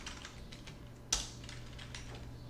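Quiet clicking on a computer keyboard, a loose run of soft keystrokes with one sharper, louder tap partway through, close and alone.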